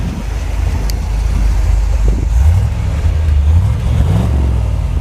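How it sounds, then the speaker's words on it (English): Exhaust of a 1975 Chevrolet Corvette idling behind the car, a low steady rumble with slight swells in pitch, close and continuous for the whole stretch. "I'll walk around the back so you can hear the exhaust."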